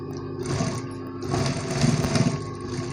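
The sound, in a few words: sewing machine stitching a blouse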